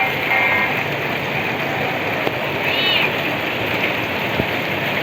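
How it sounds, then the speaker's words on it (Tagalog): Steady rain patters on surfaces, a dense continuous hiss with occasional drips, and a faint cat meow briefly audible in the background. "pero ngayon umuulan na."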